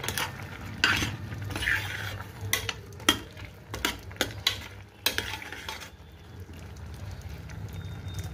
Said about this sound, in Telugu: కొంచెం కొత్తిమీర వేసి బాగా కలిపేద్దాం.